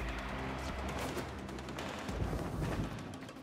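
Dense, continuous gunfire in the video game Warframe, rapid overlapping shots that keep a steady loud level for the whole stretch, with no talking.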